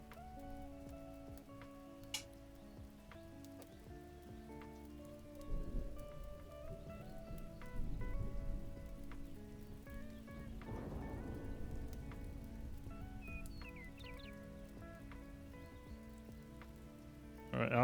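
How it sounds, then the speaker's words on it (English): Thunderstorm ambiance with steady rain pattering on surfaces and rolling thunder building in the middle, mixed beneath soft background music, with no talking. "let's get that thunderstorm ambiance going"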